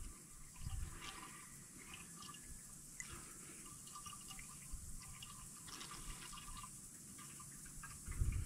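Motor oil poured into the engine of a 2005 Buick Park Avenue, a faint continuous liquid gurgle and trickle with occasional small splashes and a few clunks near the end, quiet and steady.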